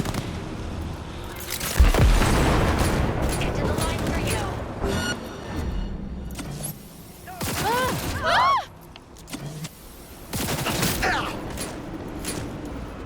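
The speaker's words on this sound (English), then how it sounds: "let's go test out our weapon launcher" A weapon launcher in Cyberpunk 2077 firing off explosions: a heavy blast near the start, then bursts of booming impacts and mechanical clatter in separate bursts, with a person talking in between.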